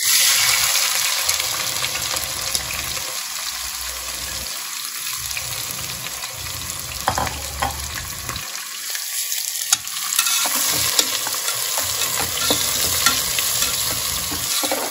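Onions stirred into masala for prawn biryani fry with a steady, close sizzle and occasional scrapes of a spoon against the pan, running throughout with no talking.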